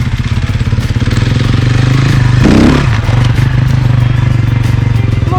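An enduro motorcycle engine runs close and loud, surging in a brief throttle rev midway before settling back to a steady rumble.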